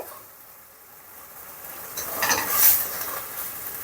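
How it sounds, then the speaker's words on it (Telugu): Chicken pieces for gongura pickle fry on high flame in a pan, giving a steady hissing sizzle with some stirring scrapes that swell briefly, close up with no talking. "చికెన్ బాగా గోల్డెన్ కలర్లోకి ఫ్రై అయిపోయింది"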